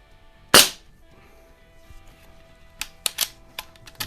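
A Crosman 2240 Buck Rail carbine air rifle fires a pellet with one sharp crack, followed by several lighter clicks and snaps spaced over the next few seconds as the gun is handled outdoors.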